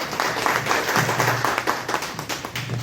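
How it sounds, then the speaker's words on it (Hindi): An audience at a Vision India seminar claps loudly, with dense, sustained applause over a steady low hum, and no voices. "एक बार फिर से चाहूंगी कि जोरदार तालियां बजाई जाए।"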